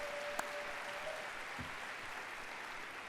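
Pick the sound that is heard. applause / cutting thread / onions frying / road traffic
applause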